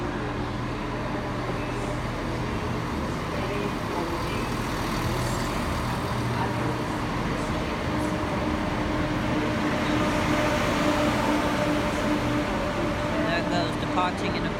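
ScotRail Class 385 or Class 365 electric train at Edinburgh Waverley station, a steady continuous rumble and hum filling the platform for the whole stretch, fairly loud and unbroken, with faint higher squeals near the end.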